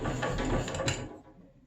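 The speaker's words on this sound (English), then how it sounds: "Sorry about that noise. My bench is rocking all around." A workbench rocks and knocks under diamond-plate sharpening of a plane iron, a close, continuous scraping clatter for about a second before it fades to quiet.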